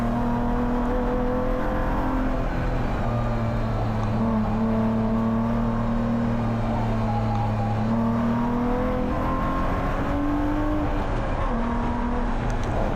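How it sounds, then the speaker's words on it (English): Spec E46 BMW race car engine on track at Willow Springs, heard from inside with steady droning tones that shift in pitch as revs change through a downshift, loud and continuous without talk. "Definitely downshifted too early there."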